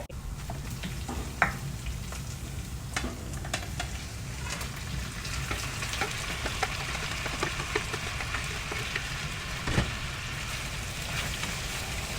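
Onion and garlic sauté in a pan for chicken hamonado, giving a continuous close sizzle with scattered clicks and scrapes of stirring and a low steady background rumble, no one speaking.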